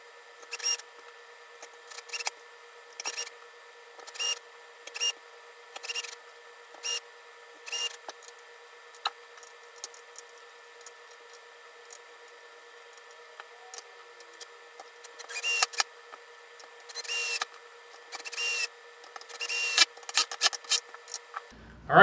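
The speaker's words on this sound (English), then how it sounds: "I'm just going to go ahead and go around these with the screwdriver, make sure that they're a little tighter." A screwdriver turns screws on a Peavey T-60 electric guitar, making short repeated rasping squeaks in bursts with pauses between, close and clear with faint steady hum beneath.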